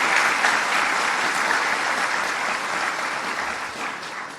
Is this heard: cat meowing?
no